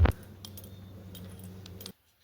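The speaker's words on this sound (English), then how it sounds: "Put your keys away." Keys jangle at a rural family farmhouse in southeast Ohio, a brief bright metallic clatter that opens with a jolt, keeps rattling lightly for about two seconds, then stops abruptly into silence.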